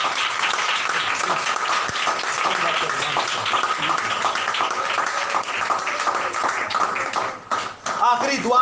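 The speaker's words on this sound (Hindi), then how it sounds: "एक बार जोरदार तालियां" Loud sustained applause from a church audience at a Hindi-language Christian gathering, dense steady clapping filling the space for several seconds with a brief dip near the end and faint voices mixed in.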